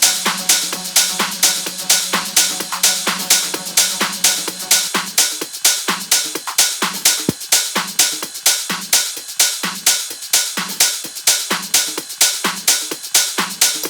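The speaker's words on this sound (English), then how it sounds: "So all the drums together sound like this." A full tech house drum loop plays on its own: a steady thumping kick with bright, fast hats and percussion layered over it in a driving rhythm.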